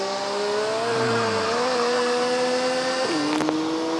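Car engine in the mobile game Grand Mobile revving steadily and climbing in pitch, then shifting to a lower tone near the end, loud and continuous with no talk.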